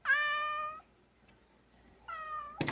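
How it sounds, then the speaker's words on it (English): A cat with Down syndrome lets out two clear, drawn-out meows separated by a quiet pause, close and fairly loud, with a brief rustle at the end. "Look at this cat."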